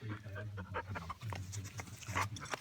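A dog pants softly and rhythmically close by during calm-behaviour training, quick breaths repeating over a faint background.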